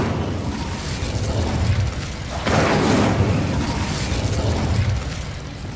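A fiery whoosh as the Incendio spell is cast in Hogwarts Legacy, a broad roaring blast that swells suddenly and lingers over a steady rumbling game background.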